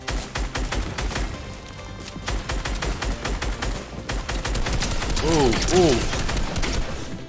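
Rapid bursts of assault rifle fire in Fortnite, with dense repeated shots rattling loudly throughout while a player talks and exclaims over the gunfire.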